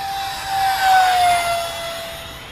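A Freewing F9 Panther RC jet makes a high-speed pass, its whine and rushing air swelling to a peak near the middle, then dropping in pitch as it moves away, with no talk.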